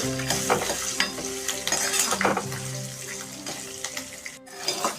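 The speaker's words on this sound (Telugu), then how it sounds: "కొంచెంగా పసుపు వేసుకుంటా ఉన్నాను వేసుకొని కలుపుతున్నాను" Turmeric being stirred into a sizzling pan mixture on a home stove, with steady frying hiss, scraping strokes of the spoon and occasional clinks of utensils, close up and without talking.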